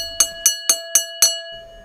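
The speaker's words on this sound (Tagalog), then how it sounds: "Marinig lang namin yung kalembang ng bell ni Manong" An ice cream vendor's hand bell rings in five sharp, evenly spaced metallic clangs, bright and close, each decaying quickly before the next, then fading out.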